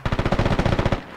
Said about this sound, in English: PKM close.